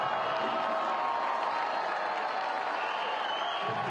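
A stadium crowd at a U.S. Open Cup football match between Nashville and FC Dallas applauds a substituted player leaving the pitch, a steady wash of clapping and cheering from the stands that fills the whole span.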